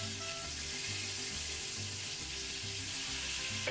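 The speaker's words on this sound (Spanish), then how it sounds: "Pasamos nuestro pollo por la salsa y a dorar." Chicken pieces dipped in red chili sauce for enchiladas fry in hot oil with a steady, close sizzle and crackle and no talking.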